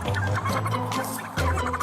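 A chicken clucks in quick repeated bursts during an encounter with police, loud and close, with one short pause before the clucking starts again.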